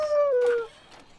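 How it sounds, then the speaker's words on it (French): A single high, drawn-out whine from a wolf dog slides downward and fades, followed by a short soft breathy sound. "C'est un loup, ça? C'est un chien loup."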